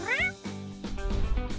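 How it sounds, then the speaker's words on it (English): A cat meows in an animated crafting story, one rising, wavering meow followed by a couple of shorter nasal calls, close and alone. "The cat comes to life. Better not to anger the big kitty."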